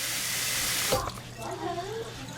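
Dent corn kernels are rinsed under a running kitchen tap, a steady hiss of water that breaks off about a second in, followed by softer splashing and handling sounds nearby.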